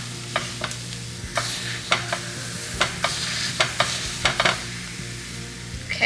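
Zucchini slices frying in a pan, a steady sizzle punctuated by repeated sharp scrapes and taps as the pieces are pressed down and stirred, close and alone with no voices.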